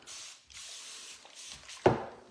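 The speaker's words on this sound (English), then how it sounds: "This is just a spray mister that I use for painting, but I'm just gonna kind of lightly mist the piece" A handheld spray mister used for painting lightly mists water onto a jewelry box, giving a few soft airy hisses followed by a sharper, louder burst near the end, with no talking.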